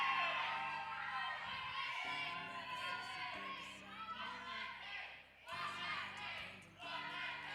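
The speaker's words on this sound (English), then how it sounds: "who has the loudest cheering section?" Rival cheering sections in a bodybuilding show audience scream, whoop and shout in a sustained loud roar with shifting surges, heard at a distance with no break.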